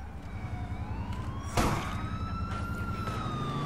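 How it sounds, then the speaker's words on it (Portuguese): A police siren in the GTA IV video game wails with a rising and falling tone over a low engine rumble, loud and near, with a sharp crash-like burst partway through. "tem uma viatura vindo"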